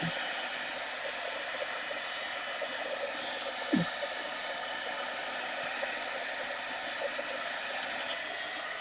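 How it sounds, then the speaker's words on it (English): A heat gun blows steadily while heat-setting craft paint on a scrapbook layout, a constant close airy whoosh with a faint brief clunk partway through. "I'm going to just go ahead and heat set this with my heat gun."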